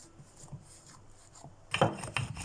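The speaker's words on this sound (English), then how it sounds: "I'm just going to knead this again one more time" Soft rubbing and pressing of pizza dough kneaded by hand, quiet at first, then a few louder slaps and rubs toward the end.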